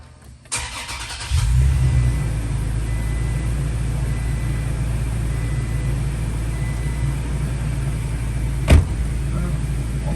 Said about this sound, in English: we're gonna want to start the engine